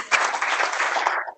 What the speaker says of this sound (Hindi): जरा तालियां बजाकर उनका भी स्वागत करें